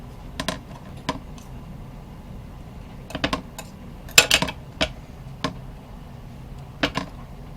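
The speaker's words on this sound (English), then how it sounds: "Chopping up some garlic." Knife chopping garlic finely on a cutting board in a home kitchen, heard as scattered sharp taps in small bursts, fairly close and quiet, with no talking.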